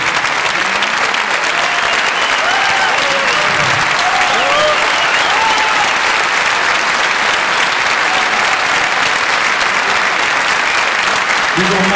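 Dense, sustained audience applause at a symphonic concert by a cello duo fills the hall steadily from start to finish, with many hands clapping at once and no break.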